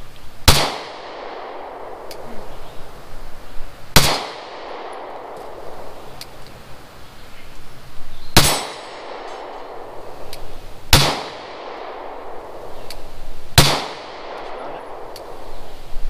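Five sharp gunshots ring out a few seconds apart at an outdoor shooting range, each a loud, close crack with a ringing tail, and faint metallic pings from steel targets follow some of the shots.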